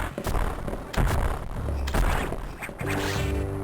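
Bomb explosion breaking a door in the video game Metroid Fusion, a series of heavy thuds and crashing blasts amid the game's music and effects, loud and close.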